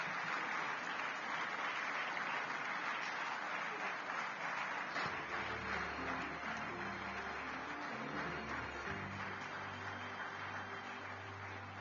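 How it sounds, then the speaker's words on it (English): Dense, sustained applause from a crowd fills the clip, with a low hum of voices or music rising underneath midway through. "Let's continue clapping."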